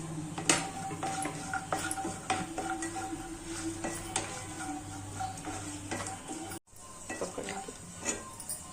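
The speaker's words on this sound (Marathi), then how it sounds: "चला याच्यात आता खोबरं भाजून घेऊ आपण." Grated coconut roasted in a pan and stirred steadily, with repeated light scraping and clinking of a spatula against metal and a soft sizzle underneath, close and continuous.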